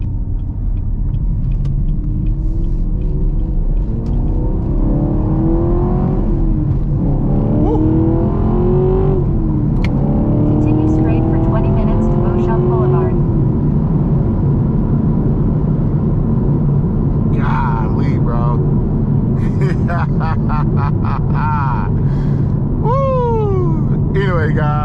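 Chevrolet Camaro 2SS 1LE engine rumbling and accelerating while driving, repeated rising pulls heard loud from inside the car, with occasional talk over the engine.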